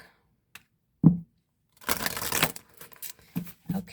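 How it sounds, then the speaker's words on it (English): A single sharp, close knock on a tarot card deck, followed by a short burst of papery rustling from the cards and a few faint light taps, in an otherwise quiet room. "So let me do one more shuffle for you, Capricorn. Let's do the knock."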